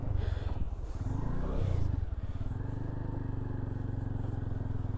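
A motorcycle pulls away after the clutch is released, its close engine thrumming steadily and swelling briefly as it picks up, then settling into an even chugging throb.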